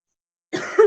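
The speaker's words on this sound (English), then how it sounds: "Excuse me. The cough." A single cough from a speaker during an online course presentation on global road safety, starting after half a second of silence and ending in a louder burst, close and clear with no other talk.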